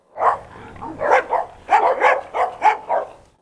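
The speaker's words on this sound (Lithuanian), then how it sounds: "Marazas, ačiū Dievui, supratingas šuo, tikrai." A dog barks close by in a run of about eight loud, sharp barks with short gaps, some coming in quick pairs, with a faint rumble underneath.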